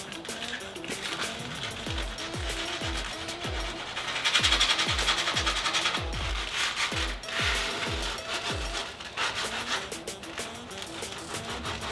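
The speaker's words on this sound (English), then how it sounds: "So here we go, let's sand some." Hand sanding on a teak wood boat swim platform, a steady run of close, rhythmic rasping strokes, roughly one per half second, loud and continuous without talk.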